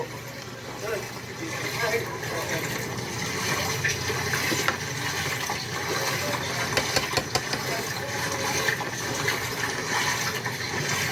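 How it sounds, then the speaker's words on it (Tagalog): Water gushes from an irrigation outlet while a pump engine runs, making a constant rushing roar with a low engine drone underneath, loud and close, with people talking over it. "bumubulwak na po yung tubig dito sa patubig"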